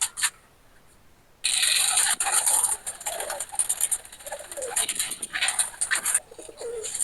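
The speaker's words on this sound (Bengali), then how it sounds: "এই এটা হলো আমার ফ্লাইং সেটের কবুতর" Pigeons kept in a flying loft coo and flutter up close, with loud bursts of wing flapping and scuffling that start after a quiet opening moment and come in uneven waves.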